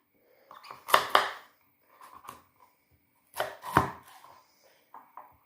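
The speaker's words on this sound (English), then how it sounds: "So I divide my carrot in two, and then as close as possible" Halved carrots are chopped with a knife on a board in two close bursts of several crisp thuds, with quieter single taps between, all without talk.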